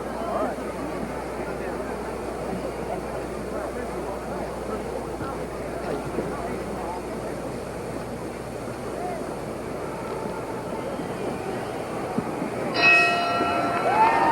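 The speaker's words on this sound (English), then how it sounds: "The bell for round one." A boxing ring bell rings near the end to open round one of the Muhammad Ali vs Buster Mathis heavyweight bout, a brief bright clang over the steady roar of the arena crowd.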